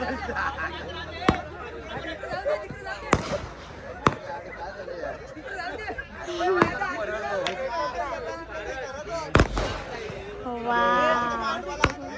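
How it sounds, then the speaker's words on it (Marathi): Sharp firecracker bangs burst at irregular intervals, some loud and near, over a steady babble of crowd chatter and voices at a village match. "हे बघा आणि फटाके वाजल्या कधी वाजतात."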